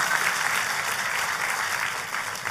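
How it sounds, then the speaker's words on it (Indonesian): Sustained, dense applause from a church congregation at a sermon, a steady wash of many hands clapping at even loudness throughout, with no talking over it. "tepuk tangannya boleh yang paling meriah"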